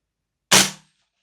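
A single sharp, close pop sounds as an airsoft rifle, a Noveske replica running on an MWS-style gas magazine, fires through a chronograph. The short crack fades fast into silence.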